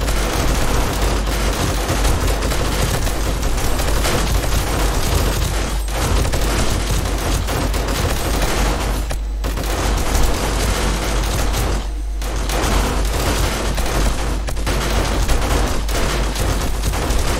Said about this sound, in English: Another bomb dude.